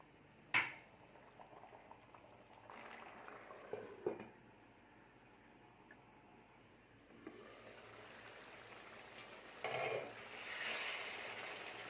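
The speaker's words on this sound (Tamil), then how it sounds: "அவ்வளோ தண்ணி ஊற்றிக்கோங்க இது நல்லா கொதிக்கட்டும்" Quiet, soft bubbling of goat intestine gravy simmering in a pot, with a few faint clinks and knocks of utensils scattered throughout.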